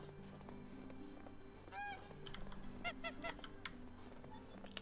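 Geese honk in Medieval Dynasty, a few nasal calls standing out clearly against a steady game music bed, with a faint clicking underneath.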